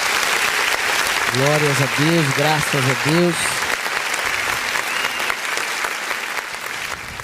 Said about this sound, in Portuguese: Vamos aplaudir o nome do Senhor Jesus.